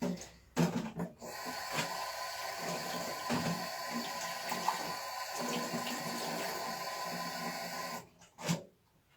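Water splashes and trickles during stone polishing with a whetstone, with short handling knocks at the start and end and a steady wet wash through the middle.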